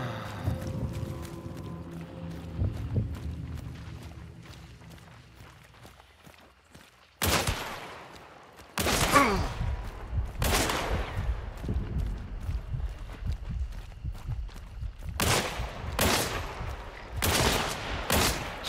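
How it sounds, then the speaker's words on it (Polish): Gunfire from the video game Hunt: Showdown: sharp bursts of shots arrive in clusters, one hard report near the middle and a rapid string of cracks toward the end, over a steady bed of game ambience and movement. "Gdzie te strzały padały?"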